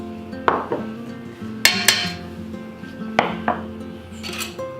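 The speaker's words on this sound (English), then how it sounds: "I'm gonna cream the sugar and butter together a little bit, but not much." Butter and sugar being creamed together in a mixing bowl for a Victoria sponge cake batter: a spoon clinks and knocks against the bowl in several separate sharp taps over a steady low scraping, with no talk.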